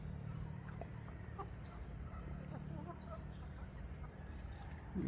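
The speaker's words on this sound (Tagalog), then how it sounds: "Yan po yung ating mga manok." Hens cluck softly in scattered bursts over a steady low hum of farmyard background noise, with a faint voice nearby.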